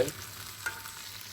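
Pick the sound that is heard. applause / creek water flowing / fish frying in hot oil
fish frying in hot oil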